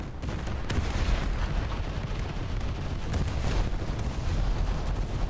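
Torpedoes detonating in a naval combat game: dense, continuous rumbling blasts with sharp cracks layered over a roaring low bed, loud and sustained throughout without pause.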